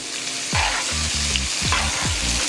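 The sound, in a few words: lamb chops sizzling while basted in garlic butter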